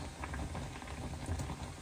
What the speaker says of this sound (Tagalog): kumulo na siya guys